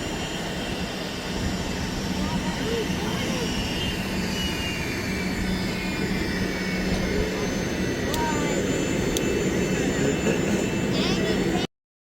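Jet airliner engines roar steadily outdoors on a cold day while passengers wait on the tarmac to board in Edinburgh, a broad constant rumble with a faint whine, fairly loud and unbroken until it cuts off at the end.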